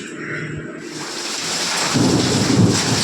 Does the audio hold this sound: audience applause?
no